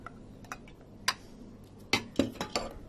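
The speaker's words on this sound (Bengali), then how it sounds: "মরিচ অনেক ঝাল দেখে আমি পিসনিতে ভর্তা করছি" Onions and very hot chilies mashed by hand into Bengali hilsa vorta, giving a handful of close, sharp taps and scrapes in uneven bursts, louder toward the end.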